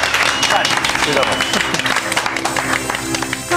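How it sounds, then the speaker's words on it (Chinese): A television cooking show studio audience claps in sustained applause, with a voice talking over it and some music in the background. "掌声鼓励"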